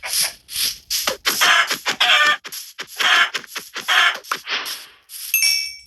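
Minecraft chicken clucks in short repeated bursts, fairly loud and close, scattered through the stretch with a brief bright chime near the end.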